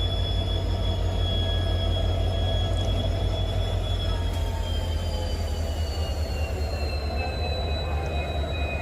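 A light locomotive on rails in India gathers speed, a continuous loud low rumble with high squealing wheel tones that slowly glide upward, steady throughout with no talk.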